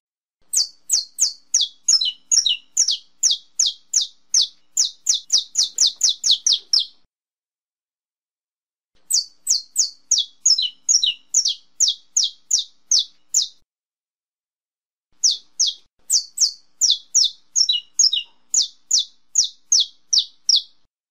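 A Brazilian songbird, an orange-headed yellow male, sings three bursts of rapid, high, sweet repeated notes, each phrase several seconds long with short silent pauses between, clear and close with no other sound.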